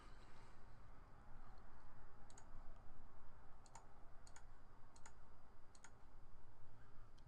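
Sharp computer mouse clicks land in an irregular scattered series, about eight distinct taps, over a low steady background hum while someone works through a CAPTCHA on a link-shortening sign-up page.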